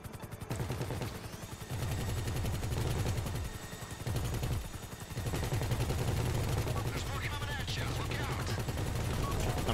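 Rapid automatic gunfire rattles in sustained bursts at a Buzzard helicopter in GTA V, loud and dense with brief pauses, under game noise.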